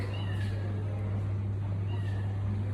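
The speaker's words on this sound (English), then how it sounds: "I'm still trying to figure out, is that a cat or is that, because no cats are supposed to be in the gym." A cat meows in a gym, two distinct mid-distance meows over a steady low electrical hum, with no voices.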